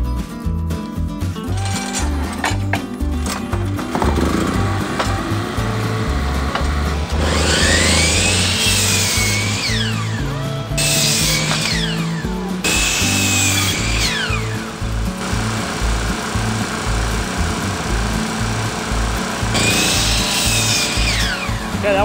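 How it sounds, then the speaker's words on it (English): Power saw cutting wooden studs to length for a shed build, loud and close, with repeated bursts of high whining cuts between bouts of motor and thumping handling noise throughout. "unfortunately I've got to cut all my studs to length"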